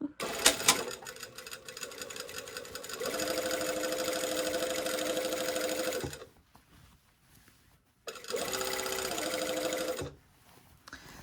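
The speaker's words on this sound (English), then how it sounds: "And I'm going to sew at 1/4 inch, a top stitch." A sewing machine runs top stitching along a shirtdress seam in two sustained bursts of fast, steady needle whirring, close by, with short pauses and handling clicks between.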